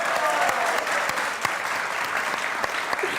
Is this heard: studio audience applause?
yes